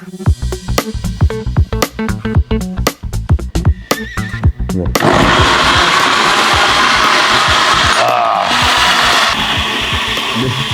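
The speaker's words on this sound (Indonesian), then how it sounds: "di sini kita mau blender" A kitchen blender grinds a spice paste of coriander seeds and a little cumin, a loud continuous whirring roar that follows several seconds of sharp irregular clatter and bursts.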